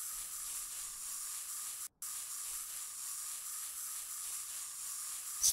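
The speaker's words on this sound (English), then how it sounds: "Spray paint." A spray paint can in Workshop Simulator gives off a steady, even hiss that runs almost unbroken. There is one brief cutoff partway through, and no one talks.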